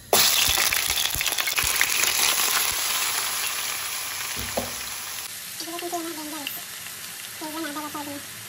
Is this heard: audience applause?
no